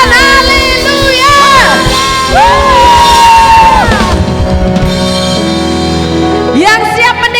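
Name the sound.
congregation clapping and cheering in worship service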